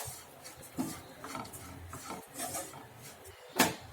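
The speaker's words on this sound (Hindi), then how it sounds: "और इन सबको अच्छे से मिक्स करेंगे।" Salt, coriander powder and spices are mixed with a spoon in a metal bowl, producing soft scraping and light clinking strokes at an irregular pace, faint and close, ending in one sharper clink.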